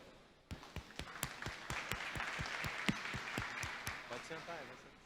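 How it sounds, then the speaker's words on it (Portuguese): Audience applauding panel guests at a venture capital event: sparse, sharp individual claps build into steady clapping from a small crowd, with voices talking over it near the end. "Palmas para eles"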